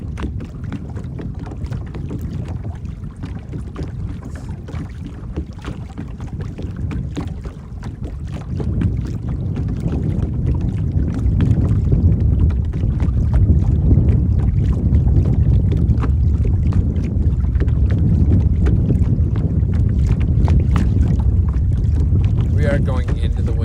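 Wind buffets a kayak on open water while paddling into a headwind, a continuous loud low rumble of wind noise on the microphone with steady paddle and water sounds, growing stronger partway through.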